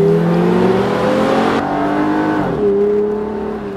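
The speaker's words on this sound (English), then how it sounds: "Gonna head out in the Prowler here." A Chrysler Prowler's engine revs up close as the car pulls away, with the pitch climbing through the gears before it eases off.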